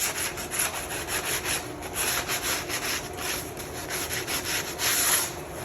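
A hand works 100 grit sandpaper at an angle along a sharp wooden edge, producing steady rhythmic scratchy rubbing strokes, close and continuous, with no talking.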